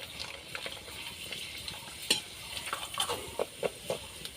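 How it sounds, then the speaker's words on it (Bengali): Papad slipped one at a time into hot oil fries with a continuous crackling sizzle, punctuated by several sharp clinks and scrapes of a utensil in the pan, close and moderately quiet, with no talking. "তেলটা ভালো করে গরম করে নিয়েছে এবার আমি একটা একটা করে পাপড় দিয়ে দিলাম"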